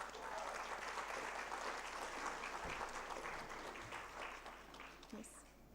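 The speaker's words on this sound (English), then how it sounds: "a huge applause for this." Conference audience applauding panelists at a higher education event, sustained clapping from a large room that thins slightly toward the end, with faint voices underneath.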